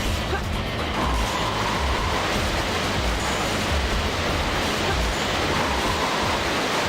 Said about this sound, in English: the water is really loud in this one, because there's just water everywhere around us